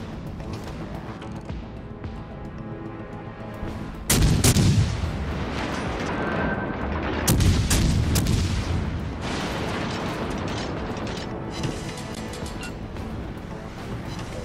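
Warship main guns fire in the naval game World of Warships Legends, booming loudly twice at about three-second spacing, each blast followed by a long rumbling tail over steady engine and sea ambience.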